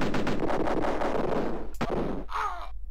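Gunfire from the 1993 DOS tactical game Cannon Fodder as soldiers shoot at an enemy building, a loud rapid burst of clipped retro shots followed by a sharp crack and a short warbling effect.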